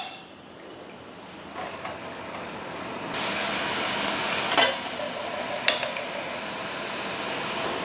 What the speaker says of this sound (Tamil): இப்போ முறுக்கு போட்டுடலாம்.